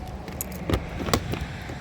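Keys jangle close by at the outside shower compartment of a 2025 Sunset Park 15MBX RV, a few bright metallic clinks and rattles in a short burst, alone with no talk.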